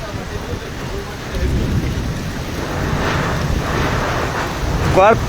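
Heavy rain pours down in Rupnarayanpur, a loud, steady broadband hiss with low rumbling that swells slightly midway, and a brief rising tone just before the end.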